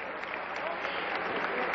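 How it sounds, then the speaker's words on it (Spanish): An audience at a beauty pageant applauds steadily as a contestant takes the stage. The clapping is thick and continuous and sounds somewhat distant and muffled. "Con el aplauso de todo el público"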